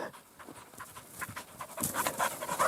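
A dog playing in the first snow pants close by, quick and rhythmic, the breaths growing louder and more rapid toward the end.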